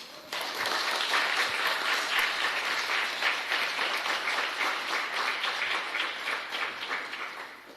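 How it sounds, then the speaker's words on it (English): An audience at a writers' panel in Bali applauds the introduced guests, with dense, even clapping that starts abruptly and carries on steadily at moderate distance. "Give them some applause, please."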